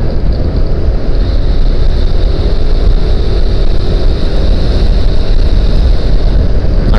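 Strong wind roars steadily across an open toll road construction site where concrete is being poured, a loud continuous buffeting rumble that batters the microphone throughout, with no talking.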